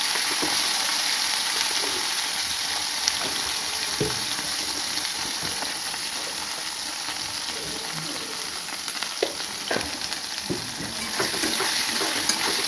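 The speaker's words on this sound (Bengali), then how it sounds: "ডাটা ভেজে উঠিয়ে নিয়েছি, এবার কাঁচকলা ভেজে নিচ্ছি।" Raw green banana frying in oil in a home kitchen pan, a steady close sizzle with occasional stirring scrapes throughout, no voices.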